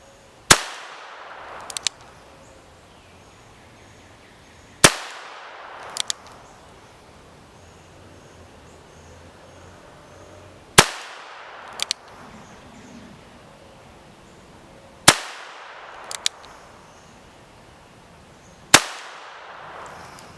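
A Henry Golden Boy revolver in .22 LR fired outdoors, five sharp cracks spaced several seconds apart, some followed closely by a second smaller snap, with quiet ambient background between shots.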